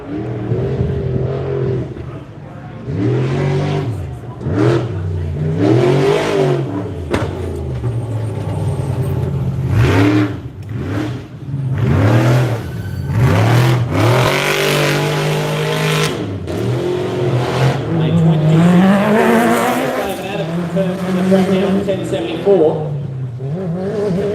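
Trophy trucks roaring past at an off-road race, loud engines revving and surging as they pass close by, with commentators talking over the motor noise throughout.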